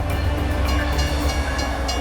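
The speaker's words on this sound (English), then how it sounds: "Those are some pretty large trains. They carry all sorts of different cargo, and they kind of run right through the center of our town." Large freight trains rolling straight through the middle of a town, a heavy continuous low rumble with rattling wagons, steady and loud throughout.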